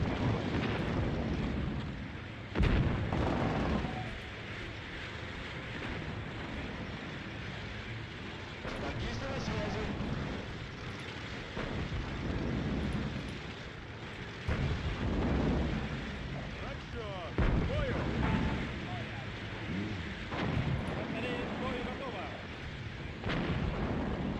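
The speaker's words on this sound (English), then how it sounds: "they still have 1 artillery gun that's harassing us" Artillery gun firing in the World War II strategy game Sudden Strike Gold, heavy booms repeating at irregular intervals over a rumbling battlefield, with someone talking through much of it.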